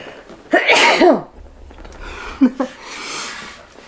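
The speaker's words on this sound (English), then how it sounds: "I'm going to sneeze." A single sharp sneeze bursts out close by, followed by a couple of short sniffs and breaths.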